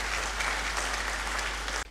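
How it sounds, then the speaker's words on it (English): A large audience at a university congregation ceremony in a great hall claps in a dense, continuous ovation that cuts off abruptly near the end. "Please give them a round of applause."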